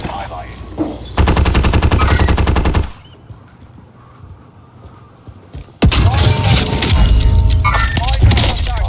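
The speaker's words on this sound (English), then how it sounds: "Getting shot at from control." Video game gunfire rattles in two long, loud automatic bursts with a quieter gap between, and players talk over it.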